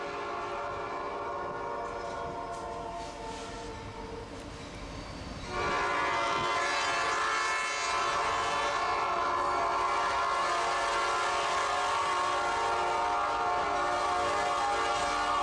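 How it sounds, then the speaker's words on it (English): A train rumbles in, its horn sounding a sustained chord that swells louder midway and holds steady as the train passes close by. "after hearing this train arriving"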